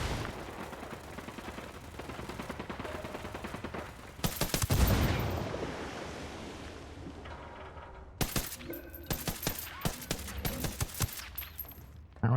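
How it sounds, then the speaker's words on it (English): Video game gunfire fills the stretch, a steady rattle of automatic shots followed by louder, sharper bursts of rapid fire and heavy impacts toward the end, close and dense. "I'm opening fire on these shitheads."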